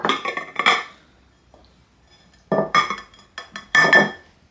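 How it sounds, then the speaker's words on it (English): Metal baking pans, two pie plates and a small square casserole dish set down and handled on a kitchen counter, giving close clattering clinks in two bursts separated by a brief quiet pause. "So I have 2 pie plates and a small square casserole dish."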